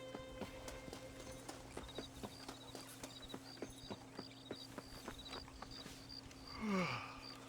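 Horse hooves clip-clop in an even, quick rhythm in the Red Dead Redemption video game, soft and steady throughout, with a brief whooshing sweep near the end.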